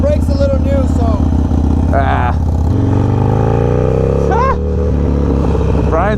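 A Harley-Davidson Sportster motorcycle engine idles with a loud, low, throbbing rumble, revving slightly, while people talk close by over it.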